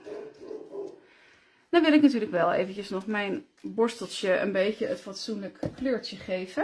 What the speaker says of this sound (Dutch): Dat is de hond van de buren.